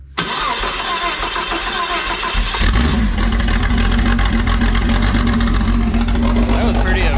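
A Jeep 4.0-liter engine on a standalone wiring harness cranks briefly and catches, then settles into a steady, loud idle with a low rumble and a faint whine, heard close up.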